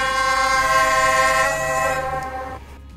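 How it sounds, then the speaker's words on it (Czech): A train horn in the Roblox Train Sim game blares as a loud, steady chord for about two seconds, then cuts off and fades quickly into near silence. "Takže aspoň teda jsme slyšeli ještě klaxon."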